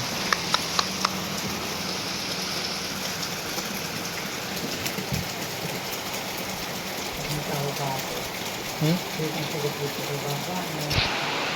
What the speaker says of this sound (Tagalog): Grabe ang ulan.